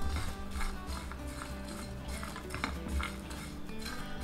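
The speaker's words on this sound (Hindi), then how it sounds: "अब सभी गरम मसालों को अच्छे से रोस्ट कर लेंगे और साथ ही में डालेंगे काजू" Almonds, cashews, coriander seeds and whole spices dry-roasting in a pan, heard as a continuous rattling scrape of stirring with rhythmic clatter, close and moderately loud, with no speech.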